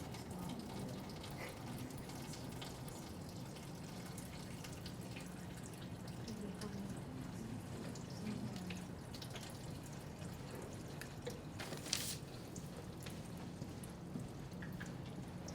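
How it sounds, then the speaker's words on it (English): Water is added to a classroom land model with a soft, continuous trickle and dripping, quiet and close, under faint room murmur. "adding water to our model"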